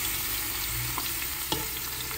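Pork ribs fry in a pan on a wood-burning stove, giving a steady close sizzle broken by a few soft clinks and stirring knocks, with no one speaking.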